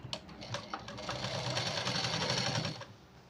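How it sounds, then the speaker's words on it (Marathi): Sewing machine stitching the joined sleeve of a blouse, a steady close whirring hum with a few quick starting taps before it settles into continuous running for a few seconds, then stops. "पुन्हा एकदा शिलाई करून घेऊया."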